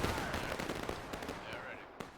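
Musket volleys crackle through a busy Holdfast battle on Miller's Cornfield, dense bursts of distant and mid-range gunfire rolling almost nonstop under faint voices.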